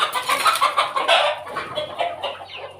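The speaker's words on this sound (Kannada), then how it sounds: "ನೋಡಿ ಇಲ್ಲಿ ಎರಡು ಕೋಳಿ ಮರಿಗಳು ಕೋಳಿ ಇದೆ" Village country hens cluck repeatedly near chicks, close and fairly loud, in quick uneven bursts over a quiet background with no talking.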